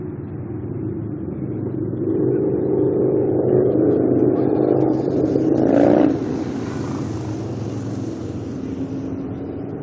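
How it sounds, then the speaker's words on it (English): An Airbus Neo airliner at Auckland Airport builds to a throaty, rumbling engine roar that swells and peaks at about six seconds, then fades back to a steady, distant drone. "The Neo engines have quite a bit of a throaty sound to them, don't they?"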